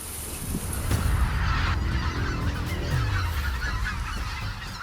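Mallard duck on a lake: loud, close, honking calls against a steady broadband wash of background noise.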